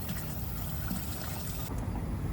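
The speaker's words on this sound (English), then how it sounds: "Notice how we have drip coming out of this hole right here." Water runs from the hole of a drip bucket irrigation system in a soft, continuous trickle, close by and fairly quiet, with a faint hiss and no talking.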